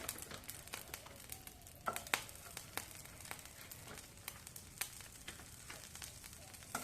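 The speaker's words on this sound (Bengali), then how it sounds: "ব্রুকলি গাজরটাকে একটু নেড়ে নেওয়ার জন্য আমি কড়ার মধ্যে দিয়ে দিলাম একটু বাটার" Broccoli and carrot fry in butter in a wok, a faint background sizzle broken by frequent small crackles and light taps. Nothing is said over it.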